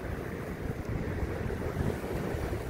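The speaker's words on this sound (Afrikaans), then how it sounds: "Daar gaan die ferry, is nou weer besig om mense oor te vat." A river ferry carrying people across the water, heard as a steady wash of waves and wind noise with a low boat rumble, continuous and moderately loud throughout, with no voices.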